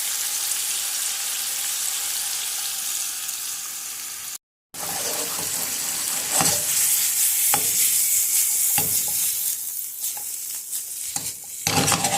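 Seasoned chicken fries in a little oil in a pan as it is stirred, giving a steady, close sizzle broken by repeated scraping strokes of the utensil, with no talking.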